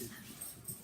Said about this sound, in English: hello, we have the dogs barking.